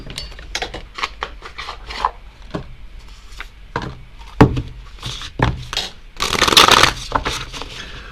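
A deck of tarot cards is shuffled by hand, producing a run of papery riffles and soft slaps in uneven bursts, with a denser, louder flurry near the end, close to the microphone and with no talking.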